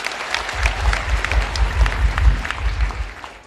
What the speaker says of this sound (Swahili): Pigieni wa mama makofi.